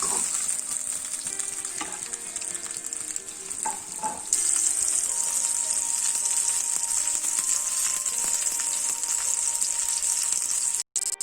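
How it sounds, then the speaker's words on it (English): Lamb shanks sizzling loudly in a hot pan, a steady crackling hiss that swells partway through, with occasional clinks of a utensil. "you can hear that beautiful sizzle from the lamb shanks."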